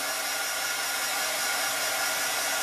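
A heat tool blows steadily over an embossed paper card, a constant airy whoosh holding level and alone throughout.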